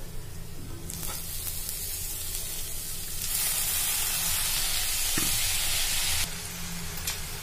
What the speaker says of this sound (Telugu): స్టవ్ అయితే కొంచెం మీడియం పెట్టి ఫ్రై చేసుకోవాలి.